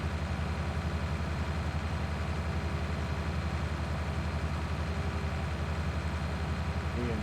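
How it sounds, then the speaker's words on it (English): Tractor engine in the video game Farming Simulator 19, a steady, loud, low droning hum that runs unbroken from start to finish with no talking. "We'll use tractor."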